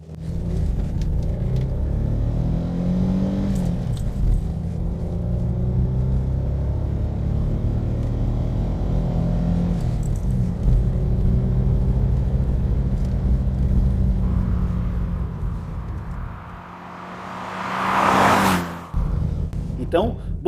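Ford Granada Scorpio 4x4 driving through curves, a loud low engine rumble from inside the cabin that holds steady, dips briefly, then swells with a whooshing surge, with someone talking over it.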